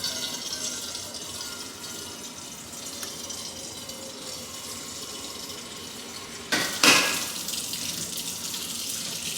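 Tap water running steadily into a pot in a home kitchen, filling it to make tea, with a brief louder splash and clatter near the end.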